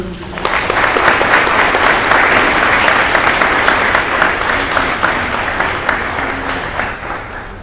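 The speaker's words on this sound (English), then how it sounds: "please join me in a round of applause for our guest of honor, Jordan C." A crowd at a high school Marine Corps JROTC birthday ball applauds the guest of honor, a loud sustained burst of many hands clapping that swells quickly and fades slightly toward the end.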